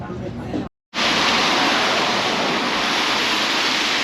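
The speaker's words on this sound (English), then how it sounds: "beautiful waterfall." The Seven Sisters Waterfall in Norway's Geirangerfjord roars as a dense, unbroken rush of falling water, loud and close, cut by one short gap of silence before it resumes at full strength.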